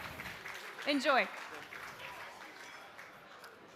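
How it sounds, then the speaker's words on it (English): An audience at a medical-technology awards gala applauds the winner, a soft, distant wash of clapping while someone briefly speaks over it. "Another round of applause for the winner."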